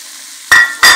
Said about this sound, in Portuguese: eu vou adicionar aqui o camarão dentro da panela. Vamos dar uma selada rápido